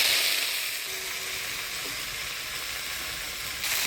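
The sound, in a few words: chopped lafa greens added to hot tempering oil, sizzling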